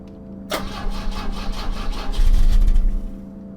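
An old car's engine in the video game The Drifter cranks repeatedly with a steady rhythmic churning that never catches, loud and close over a constant low electrical hum.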